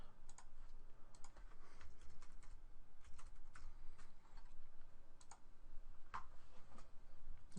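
Username and password are typed on a computer keyboard in a steady run of quick, light key clicks, close and fairly quiet, with no talking.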